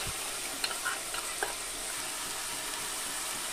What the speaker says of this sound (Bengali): পেঁয়াজটা একটু হালকা ভাজা ভাজা হয়েছে। এবার আমি এর ভিতর দিয়ে দেব আদা রসুনের পেস্ট